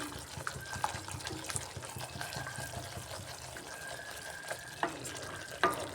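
Spice paste is sautéed in a pan, a quiet bubbling sizzle with wet, intermittent stirring and a couple of sharper knocks of the spoon near the end.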